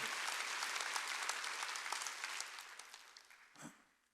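A church congregation at a Wednesday worship service claps together in a dense burst of applause that gradually fades out, with a final stray clap near the end.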